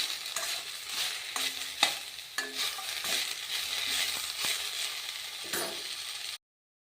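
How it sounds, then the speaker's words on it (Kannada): Ingredients roasting in a spoonful of oil in a pan, with a steady soft sizzle broken by repeated scraping and stirring clicks from a spoon, fairly close and with no one talking. "ಒಂದು ಸ್ಪೂನ್ ಎಣ್ಣೆ ಹುರಿಬೇಕ್ರಿ. ಇದು ನೋಡ್ರಿ, ಇದು ಹುರಿತಾ ಎಷ್ಟು ಕಡಿಮೆ ಹಾಕ್ಕೋತಾ ಬರ್ತದೆ."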